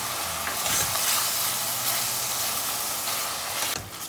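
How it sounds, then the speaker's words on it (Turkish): Minced meat frying in a pan with tomato paste and pepper paste for a Turkish okra stew, giving a dense, continuous close sizzle and hiss with occasional stirring scrapes. "1 yemek kaşığı domates salçası, 1 yemek kaşığı da biber salçası ilave edip biraz da bu şekilde kavuracağım"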